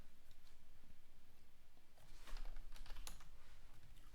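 Rapid typing on a computer keyboard while running terminal commands for a server deployment, a continuous patter of close key clicks with a few louder, sharper strikes midway.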